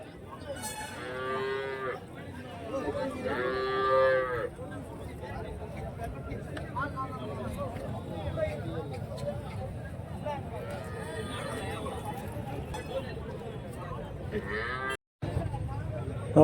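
Cattle lowing several times at a busy weekly livestock market in Santhipuram, long drawn-out moos standing out over a continuous crowd murmur and people talking nearby.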